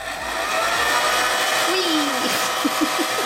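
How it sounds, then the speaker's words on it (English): A steady, loud hair dryer whooshes throughout, with a few brief faint voice-like sounds underneath. "They want me to heat up the entire thing for 20 to 30 minutes with a hairdryer."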